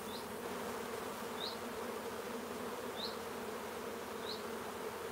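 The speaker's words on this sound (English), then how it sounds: "All those forager bees have left this box, okay, and they've come back to this one." Honeybees hum steadily around hive boxes, a constant, even drone close by, broken by a few faint, evenly spaced high chirps.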